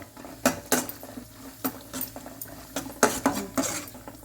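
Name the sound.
cashews being roasted in ghee in a pan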